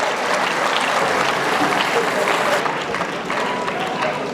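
Students applaud at a graduation ceremony, a dense, steady burst of clapping from a large crowd that fills the whole stretch without letup and thins slightly toward the end.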